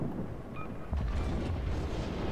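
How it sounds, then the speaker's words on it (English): Torpedo explosions in World of Warships strike near a Cleveland cruiser, a deep rumbling boom rising sharply and rolling on over steady low game noise. "so here come the torpedoes"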